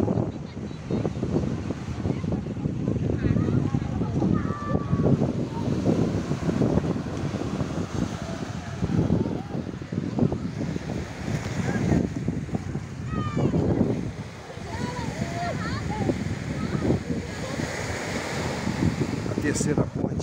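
Surf washing onto Praia do Soar beach in Vitória, Espírito Santo, a steady broadband roar of waves mixed with wind buffeting the microphone, with distant voices and bird-like chirps faintly in the background.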